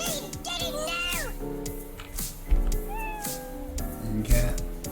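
A cat meows repeatedly in a video game during a Mario's Madness playthrough, its rising and falling calls cutting through busy game music and sound effects at a fairly close, moderate level.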